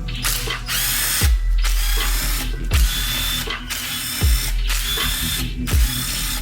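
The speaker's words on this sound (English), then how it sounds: "They're T30 and we're gonna use our small 1/4 inch impact." A small 1/4 inch impact driver rattles out T30 bolts on a BMW E92 M3 DCT transmission pan: four loud, close bursts of rapid hammering, each lasting about a second, separated by short pauses.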